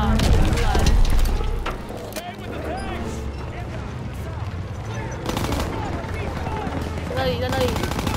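Rapid gunfire and booming explosions from a World War II shooter game, Call of Duty: WWII, dense and loud throughout with bursts of fire, while someone talks excitedly over the battle.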